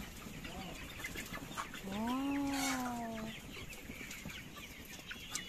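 Broiler chickens on a farm give a loud drawn-out cluck or crow with a rising then falling tone, surrounded by quieter clucking and chatter from the flock.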